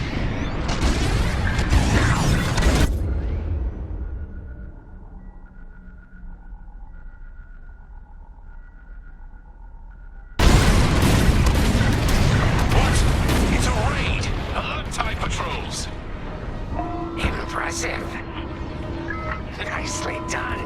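Bombs detonating in a Star Wars: Squadrons space battle: a heavy booming blast, a few seconds of low rumbling quiet, then a second loud explosion surge with roaring debris and tonal hums.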